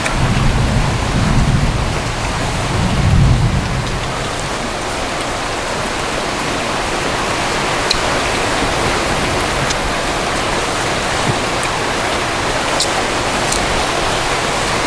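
Heavy rain pours down during the rainy season, with deep thunder rumbling for the first few seconds before the steady, loud downpour continues alone.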